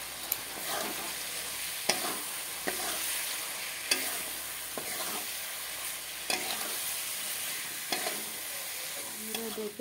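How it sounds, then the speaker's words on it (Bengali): Vegetables are stirred in a pan after the spices have fried, for a fish curry. A spoon scrapes and taps against the pan at intervals over a continuous sizzle, with no talking. "মশলা ভাজার পর সব সবজি একসাথে নেড়ে চেড়ে তারপর ঝোল দেওয়া হবে।"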